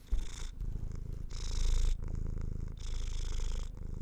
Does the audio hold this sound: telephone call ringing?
no